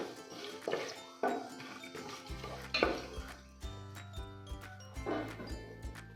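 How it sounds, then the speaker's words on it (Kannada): Biryani spices fry in hot oil in a pot for chicken biryani, with soft sizzling under repeated close clinks and scrapes of a metal spoon against the pan. "ಇದರಲ್ಲಿ ಹಾಕ್ಕೊಂಡು ಒಂದು 30 ಸೆಕೆಂಡು ಫ್ರೈ ಮಾಡ್ಕೋಬೇಕು."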